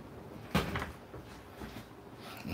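Oven door being opened or closed in a home kitchen, one sharp thud followed by faint rattles at low volume.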